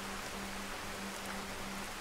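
Rain in the Skyrim video game, a steady, even hiss of falling drops at moderate level with a faint low hum beneath and no talking.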